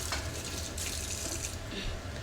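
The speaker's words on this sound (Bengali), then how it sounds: "ওই যে দেখেন আমি পানি অ্যাড করে দিব।" Water pours steadily from a tap into a pan of spices being fried for a sea bele fish bhuna, a soft continuous splashing stream heard alone.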